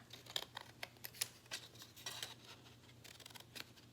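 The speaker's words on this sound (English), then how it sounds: "I'm gonna cut some shapes out of it" Scissors snip shapes out of folded paper in a quiet room, a quick irregular series of crisp close-up cuts, each a short bright snip.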